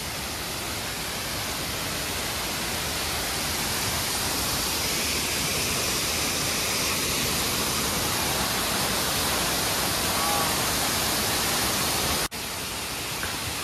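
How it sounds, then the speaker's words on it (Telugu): A waterfall in the Uttarakhand hills drops from a great height, its fast-flowing water making a steady, dense, unbroken roar that barely dips for an instant near the end. "ఈ పైన కొండల నుంచి చూడండి వాటర్ ఎలా పారుతున్నాయో."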